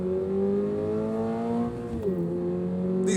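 2023 Toyota GR86 engine on a track, a steady loud drone that dips then blips upward in pitch during a heel-toe downshift, heard from inside the car without talk.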